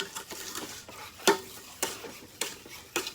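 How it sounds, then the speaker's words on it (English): White and light brown sugar are stirred into melted butter in a pot, giving a few soft, close scraping strokes spaced about half a second apart over quiet background. "Going to give this a quick stir until they're well incorporated."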